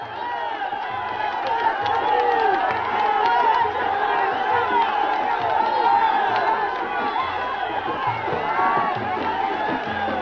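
A huge crowd gathered for a mass rally in the desert makes a dense, continuous roar of cheering and chatter. It stays loud and steady throughout, without a single voice standing out.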